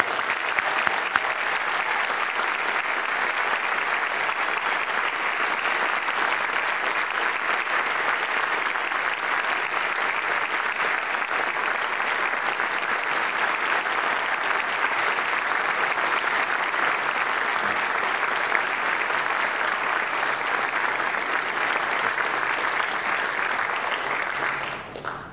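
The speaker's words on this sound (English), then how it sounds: "please join me in a round of applause for Class" Audience applause at a military graduation concert for a class of graduates: a dense, sustained round of clapping from a large crowd, steady and loud for about 25 seconds before tapering at the end.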